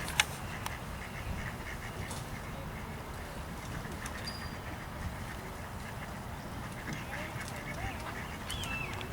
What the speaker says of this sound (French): tous les canards ils se sont ramenés